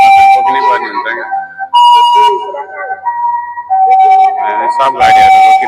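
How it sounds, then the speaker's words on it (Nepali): An ambulance siren wails loud and close with rising and falling tones while traffic halts on a road in Japan, the siren filling the whole stretch with brief gaps. "यो एम्बुलेन्स यसरी आउँदाखेरि चाहिँ सबै गाडीहरू जस्तो कन्डिसनमा रोकिनै पर्ने हुन्छ"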